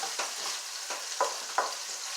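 Ground halal beef browns in a pan over low heat, with a soft background sizzle broken by repeated scraping stirs of a utensil at an uneven rhythm, close and alone.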